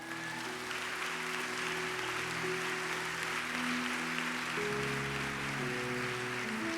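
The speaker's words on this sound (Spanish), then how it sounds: "Aplauda si lo va a aplaudir bien." A church congregation claps together in a fairly soft, continuous wash, held under sustained keyboard chords that shift partway through.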